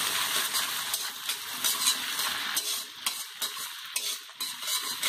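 Minced ginger sizzles and crackles in hot oil in a pan for a dhaba-style egg tadka, with a spoon scraping and stirring in irregular bursts close to the pan, and no talking.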